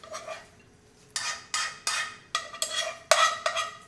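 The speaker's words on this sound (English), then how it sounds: "So I'm gonna scrape that onto a plate" Cooked rice scraped from a pot onto a plate with a utensil: a string of sharp metallic scrapes and clanks, close and irregular, about eight strokes after a quieter opening, with no talk.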